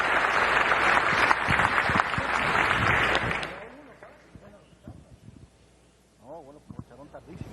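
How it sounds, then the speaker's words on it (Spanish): Audience applause fills a national assembly hall during a bicentennial session, loud and dense for about three seconds before fading, after which scattered voices and faint murmuring continue in the background. "Lo saludamos y lo recibimos con un aplauso."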